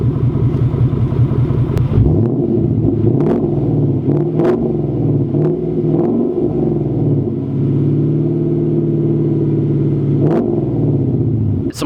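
A car fitted with a Magnaflow Competition catback exhaust idles with a deep, loud burble, then revs to about 2,500 RPM several times, each rise and fall of the engine note sharp and close.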